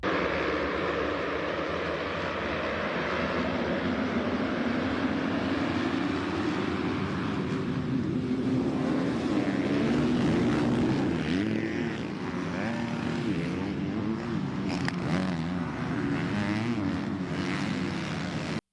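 Motocross motorcycle ridden at the Glen Helen track, a steady loud engine drone with a shifting pitch that rises and falls as the bike runs continuously and holds its volume throughout.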